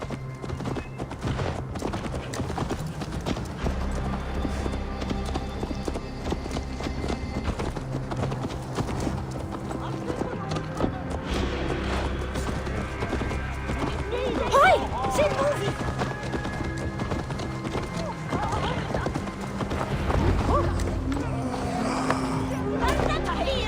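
Horse hooves clip-clop steadily in Assassin's Creed Valhalla, a rhythmic run of close hoofbeats lasting throughout alongside game music and sounds, with a neigh partway through and voices talking over it.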